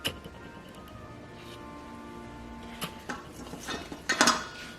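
A baking tray of potato wedges slides into a ready home oven, with metallic clatters and scrapes building to a loud rattling clunk near the end over quiet room noise.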